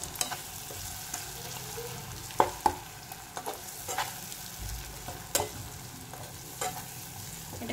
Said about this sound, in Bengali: এটাকে আমি ভালো করে কষিয়ে নেব কিছুক্ষণ।